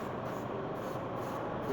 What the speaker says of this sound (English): basically just brushing, spraying it on